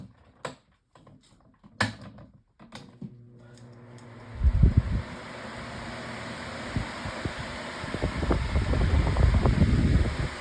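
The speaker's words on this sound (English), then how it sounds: "these fans are technically quiet on low, but they do get pretty loud on high" A Lasko 18-inch Cyclone pedestal fan is heard through a few knocks and clicks, then its loud, steady whooshing airflow rises and builds toward the end, with no talking.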